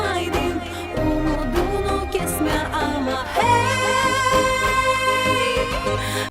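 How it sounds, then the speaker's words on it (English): Gagauz folk music plays with dense melodic instruments and a steady low bass line, shifting into a brighter, fuller phrase partway through, continuous and loud with no talking. "There's also Gagauz music, which is pretty damn cool, and it sounds like this."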